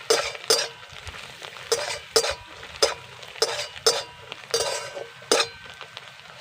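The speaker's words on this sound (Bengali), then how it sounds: "এবার ভালো করে মিশিয়ে নেবো" Spices, chilli powder and salt being mixed in a pan with a metal spoon for an aloo paratha filling, giving repeated sharp clinks and scrapes at a steady, uneven rhythm, close and fairly loud with no talking.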